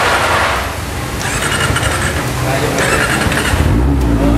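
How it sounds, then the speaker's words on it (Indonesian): A Kawasaki Ninja ZX-25R motorcycle engine, still cold after coating and full detailing, starts and revs loud and close in rising, surging bursts over a steady roar, with people talking over it. "Mesinnya bisa nyala"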